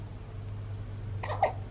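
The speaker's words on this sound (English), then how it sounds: "You got the hiccups?" A baby girl hiccups once or twice in quick succession near the end, short and fairly quiet over a low steady indoor hum.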